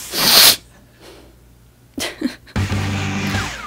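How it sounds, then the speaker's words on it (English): A single loud, close sneeze bursts out at the start, then quiet breathing and small mouth noises follow before a steady low hum of room sound returns. "I gotta sneeze."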